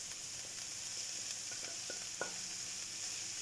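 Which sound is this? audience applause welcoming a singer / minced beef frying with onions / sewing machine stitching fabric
minced beef frying with onions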